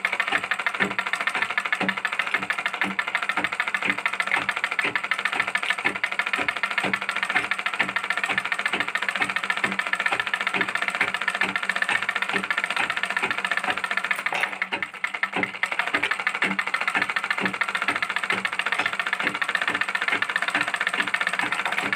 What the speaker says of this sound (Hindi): यहां से ऐसे किनारे किनारे सिलाई लगा दें।